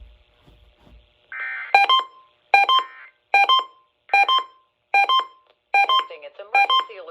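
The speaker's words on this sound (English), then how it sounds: "Testing its emergency alert system equipment." Emergency Alert System test tones on a radio broadcast: a short burst of header data followed by seven evenly spaced, loud electronic beeps, clear and alone.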